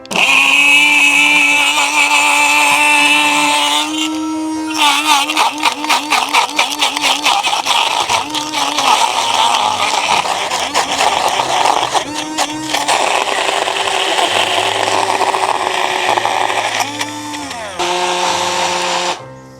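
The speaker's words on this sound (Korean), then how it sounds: "전원 켜고 한번 갈아 볼게요." A powerful portable camping blender whirs loudly up close as it blends ingredients with sugar, running in several bursts with short pauses and pitch changes as the load shifts.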